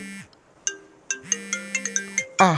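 A phone ringtone plays a bright electronic melody of short tonal notes, with a quick run of pitched chimes at the end.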